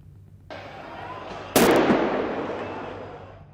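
Tear gas shells and grenades are fired at protesters during clashes with Palestinian security forces in the West Bank. A sharp blast cuts in over a noisy rumble, then a loud burst decays slowly into a long, roaring tail.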